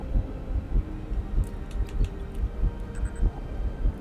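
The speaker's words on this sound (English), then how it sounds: "Is that a heartbeat? Do you hear that?" A slow, steady heartbeat in the video game Star Trek Voyager Across the Unknown, low muffled thumps pulsing at an even rhythm over a dark hum, with faint high ticks above.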